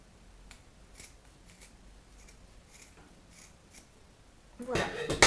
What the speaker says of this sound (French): Je les mets une sur l'autre, et je vais tout simplement venir couper ici.